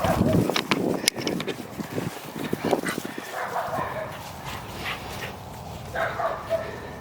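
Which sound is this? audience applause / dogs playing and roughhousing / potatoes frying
dogs playing and roughhousing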